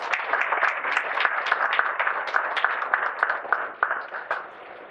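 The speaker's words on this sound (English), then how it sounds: "let's please have a round of applause for all of the candidates" Audience at a Chicago Chinatown candidate forum for Illinois Senate and House races applauds the candidates, a dense, steady wash of clapping that holds strong and then tapers off near the end.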